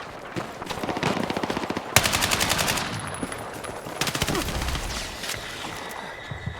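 Gunfire in the shooter Battlefield 6 comes as rapid automatic bursts, a sharp loud volley at about two seconds followed by more rattling runs and scattered shots.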